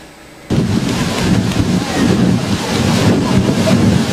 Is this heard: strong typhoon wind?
yes